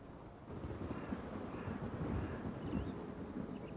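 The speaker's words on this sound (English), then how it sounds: "Get thunder and lightning here." Thunder and rain in the video game Roadcraft, a steady wash of rainfall with low rumbling throughout, moderately quiet and with no voices.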